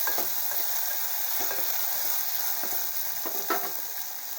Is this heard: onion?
yes